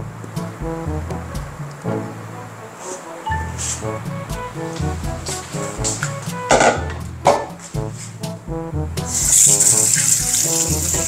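Water is poured into a container, a gurgling, splashing stream that swells and breaks up, growing louder toward the end, with no talking over it.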